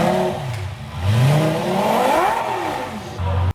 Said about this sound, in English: Here's a quick clip of the car revving.